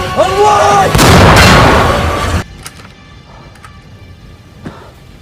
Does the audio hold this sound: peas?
no